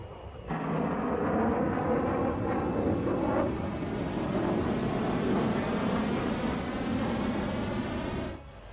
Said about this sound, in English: High-speed projectile launch from the aircraft.